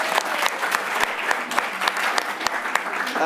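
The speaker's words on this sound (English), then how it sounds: "give yourself a big round of applause" An audience at a live improv comedy show claps continuously, a dense wash of applause with sharp individual claps standing out.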